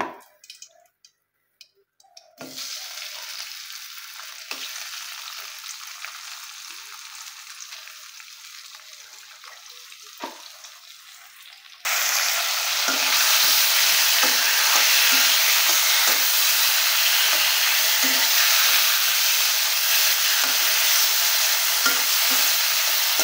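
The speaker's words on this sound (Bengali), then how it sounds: "তো মাছের যে কান এবং পটকা যে এগুলো ছিল, এগুলো একটু ভেজে নেব।" Fish gills and swim bladder fry in a pan: a faint hiss at first, then a louder, steady bubbling sizzle for the second half, with occasional stirring.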